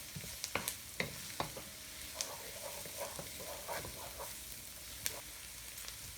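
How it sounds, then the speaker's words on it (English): Onions and garlic sizzle softly in a pan with spring onion and celery for Indonesian mee goreng noodles, a steady fry broken by the clicks and scrapes of stirring, with no talk. "Don't you just love the scent of onions when it's frying,"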